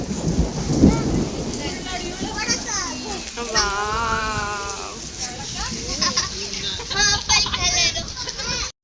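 Heavy hail and rain pour down near Banasura Sagar dam on a windy afternoon with thunder, a steady loud wash running throughout while children and adults talk over it.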